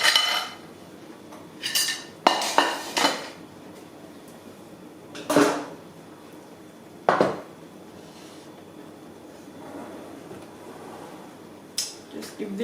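Spoon stirring Toad in the Hole batter in a bowl, with a few short scraping clinks against the bowl in separate bursts between quieter stretches.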